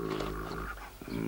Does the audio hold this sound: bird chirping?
no